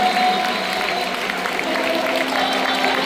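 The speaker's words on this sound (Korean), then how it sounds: "여러분들 한 선수 한 선수 전달될 때마다 큰 박수로 축하해 주시면 감사드리겠습니다" A stadium crowd at a baseball game claps steadily to welcome twelve new LG Twins players, a dense, continuous patter with a faint voice underneath.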